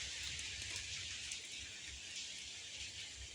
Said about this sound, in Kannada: ಹೊರಗೆ ನೋಡಿ ಜೋರು ಮಳೆಗಳು ಬಿಟ್ಟೈತಿ.